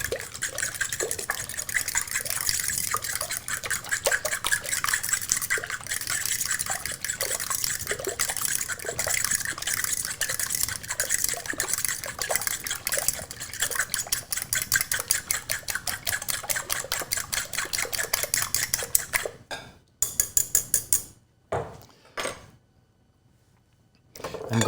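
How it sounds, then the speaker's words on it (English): Eggs beaten with a fork in a bowl for a cheese soufflé, a rapid steady clicking and sloshing rhythm that carries on for about twenty seconds, then slows into a few separate taps before stopping. "Just going to use a fork to mix the eggs."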